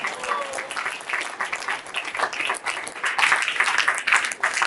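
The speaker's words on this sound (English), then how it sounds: "Clap for her very well." Applause from a forum audience of architects for a woman being recognised, steady and fairly dense, with a few voices mixed into the crowd noise, moderately loud throughout.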